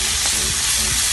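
Caramel with a pinch of salt stirred in a pan for caramel popcorn, giving a steady loud sizzling hiss with soft scraping from the stirring.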